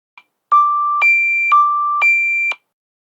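An eOceanic anchor watch alarm sounds four clear electronic beeps that alternate between a lower and a higher tone, loud and close, after a short faint blip.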